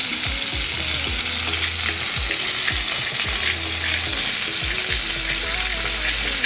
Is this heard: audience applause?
no